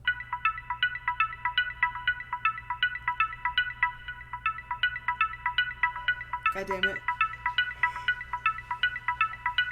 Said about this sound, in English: That was a weird phone sound.